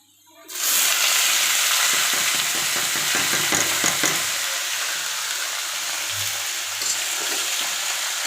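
Bitter gourd hits a pan of browned frying onions, bursting into a loud, steady sizzle with some stirring scrapes early on, continuing without talk.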